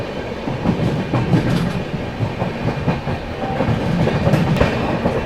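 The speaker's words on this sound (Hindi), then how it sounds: "ये कर दिया अपनी वेस्ट बंगाल संपर्क क्रांति ने प्रयागराज जंक्शन को स्किप" A West Bengal Sampark Kranti express train rolls through Prayagraj Junction without stopping, its wagons producing a steady, loud rumble with rhythmic clickety-clack from the wheels over rail joints, close by and continuous throughout.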